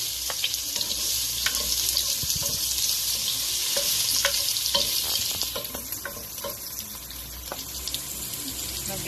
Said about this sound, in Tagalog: Igigisa naman natin ngayon yung sibuyas at ang bawang.